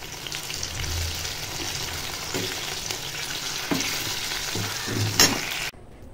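Food sizzles in hot oil in a pan, a dense continuous frying crackle with occasional stirring clatter, close and fairly loud, cutting off abruptly near the end.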